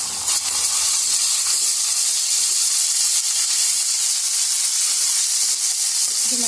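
Turmeric and ginger-garlic paste frying in a hot pan, a steady bright hiss and sizzle that stays loud and even throughout, with no talking.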